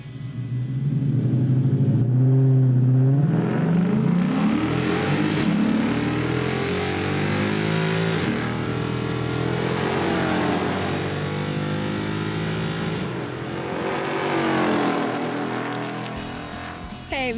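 A Chevy Nova hot rod accelerates hard on a test pass: a loud, sustained engine roar that surges and falls across about seventeen seconds, close by and dominating the scene.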